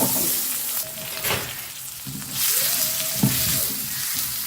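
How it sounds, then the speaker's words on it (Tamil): Paneer fries in hot oil with a loud, continuous sizzle close by, broken by a few brief scraping stirs. "இந்த பன்னீரை வந்து எண்ணெயில் பொரித்து எடுத்துகிட்டு வந்துடலாம்"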